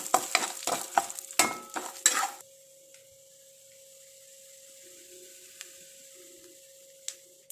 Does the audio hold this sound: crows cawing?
no